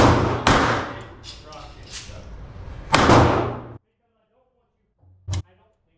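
Loud gunshots from a Beretta 30x Tomcat .32 ACP pistol: two sharp reports about two and a half seconds apart, each followed by a ringing decay, then silence and a brief clack near the end.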